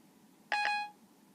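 A phone's Siri assistant begins a call with a short two-pulse electronic chime, loud and clear against a quiet room, lasting well under a second.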